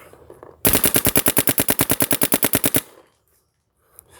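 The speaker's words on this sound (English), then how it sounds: "then we will go to full auto fire" A Dye DAM paintball marker fires a rapid full-auto burst of about twenty sharp, evenly spaced shots lasting around two seconds, loud and close, then stops dead into near silence.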